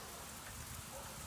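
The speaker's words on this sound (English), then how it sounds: "one of my things is I just don't care that it's raining anymore." Outdoor rain falls as a steady, soft patter of drops on surfaces, continuous and even, with no voices.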